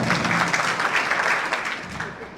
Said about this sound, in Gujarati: આવો જયેશભાઈને તાળીઓથી ઉભો.